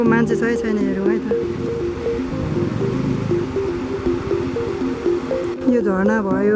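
Water from Mohini waterfall rushes as a steady broadband wash beneath someone talking throughout.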